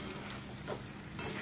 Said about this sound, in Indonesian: Nah selanjutnya ini diaduk-aduk aja sampai dia semua tercampur merata